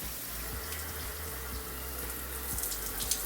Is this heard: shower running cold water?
yes